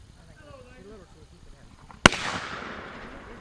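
A single sharp shotgun blast at a clay target during an outdoor shotgun class, loud and close, with a long rumbling decay afterward; faint voices are heard before the shot.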